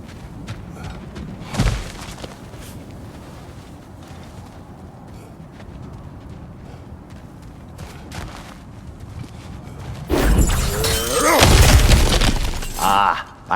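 Smashing through cracked ground in God of War Ragnarök: quiet game ambience with a few isolated thuds, then a loud burst of crunching and shattering debris near the end.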